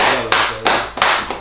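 Applause for a dancer, heard as a few loud, evenly spaced sharp claps roughly every third of a second, close and dry with nothing else over them.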